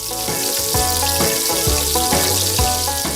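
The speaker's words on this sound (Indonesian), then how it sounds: "Kita landingkan langsung aja si lele ke dalam minyak goreng yang panas." Catfish crackles and hisses after being dropped into hot frying oil, a continuous sizzle partly masked by prominent rhythmic background music.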